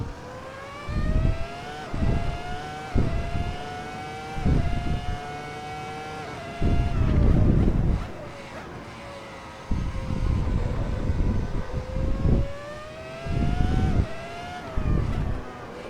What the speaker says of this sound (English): Dump the clutch in, first gear, raise the revs a bit, and off we go.